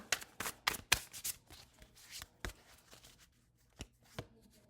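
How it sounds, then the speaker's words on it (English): Oracle cards are shuffled and pulled by hand: a quick run of soft riffling slaps and flicks, then sparser single card snaps. Close and quiet with no voices. "Let's go ahead and pull 3 of these cards."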